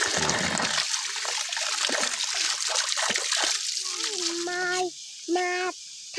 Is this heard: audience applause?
no